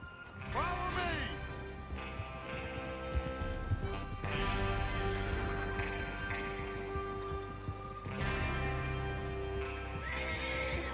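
Horses in the video game Red Dead Redemption 2 neigh and whinny several times over rhythmic clip-clop hooves, with a rider's chatter faintly mixed underneath and a busy outdoor bed throughout.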